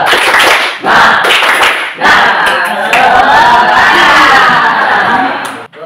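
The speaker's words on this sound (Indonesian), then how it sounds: "Coba tepuk semangat." A classroom group performs the 'tepuk semangat' clapping routine, loud rhythmic hand claps mixed with shouted chanting voices throughout, pausing briefly between bursts.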